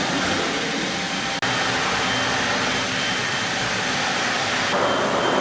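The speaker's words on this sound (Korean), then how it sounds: "대표님 저 기계가 보행식 청소기예요?" A walk-behind floor scrubber runs steadily while cleaning a floor before anti-slip etching, a loud, continuous broadband whir and hiss with a brief dropout near the start.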